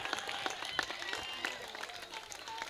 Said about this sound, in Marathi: जबरदस्त खुश असाल तर जोरदार टाळ्या करा.